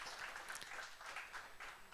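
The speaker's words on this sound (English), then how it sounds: "One more round of applause" An audience at a business summit applauds, a brief burst of dense, steady clapping heard from a distance in a hall.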